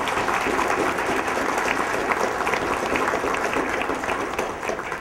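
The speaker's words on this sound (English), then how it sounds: "I would like to give all of our graduates and award recipients a big round of applause" Full, steady applause from the crowd at an adult education commencement ceremony, honoring the graduates and award recipients, with dense clapping that holds for several seconds before easing slightly.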